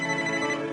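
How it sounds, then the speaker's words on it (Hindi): A mobile phone rings indoors in a steady electronic tone that holds for under a second, fairly loud and close, with no talk over it. "अब मेरा फोन बज रहा है"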